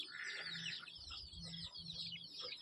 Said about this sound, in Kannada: ಇಲ್ಲಿ ನೋಡ್ಬೋದು ಇನ್ನೂ 2 ಮರಿ ಕೋಳಿ ಇದೆ.